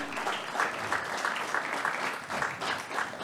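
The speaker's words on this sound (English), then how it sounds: "have the honor of felicitating Shri Charles, can we have a big, big round of applause?" Applause from the audience at the 22nd India SME Excellence Awards ceremony, sustained clapping with a few louder claps standing out and no one speaking over it.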